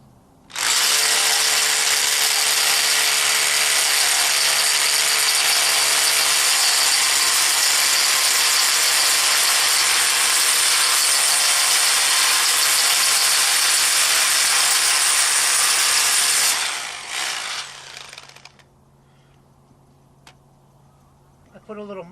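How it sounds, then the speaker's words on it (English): A power auger drilling a post hole in the ground for a Versa Tube 30x40 shop, a loud steady grinding whir for about sixteen seconds before winding down and stopping. "So now let's get this hole drilled."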